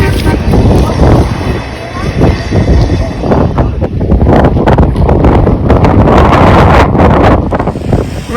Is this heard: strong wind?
yes